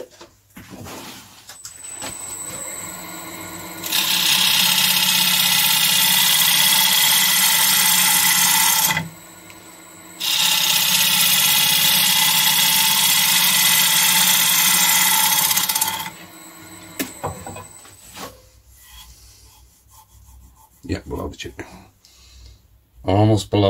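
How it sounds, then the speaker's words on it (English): Sanding the outside of an olive ash bowl spinning on a wood lathe: two long stretches of steady, loud, hissing whir split by a short pause, followed by quieter scattered knocks and handling. "I'm going to sand the outside of this"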